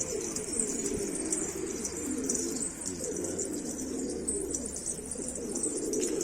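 Pigeons coo softly and steadily inside a coop holding birds bought from Antep, a low continuous murmur of overlapping calls with faint chirps above, no voices.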